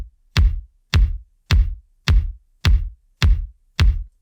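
A punchy synthwave kick drum with a papery attack and deep low end, played dry without tape saturation, thumps seven times at a steady, even pulse, each hit decaying quickly into silence.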